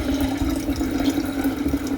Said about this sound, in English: I'll be able to pour off the SMB.